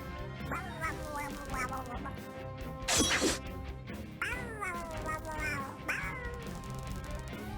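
Cartoonish cat meows and yowls from the video game Regalia: Of Men and Monarchs come in a rapid series of rising, wavering cries alongside a crash and game music, all fairly faint.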